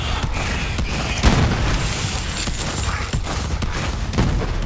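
Continuous gunfire from the shooter game Borderlands 3 rattles steadily throughout, with repeated loud shots and booms layered into a dense, busy barrage.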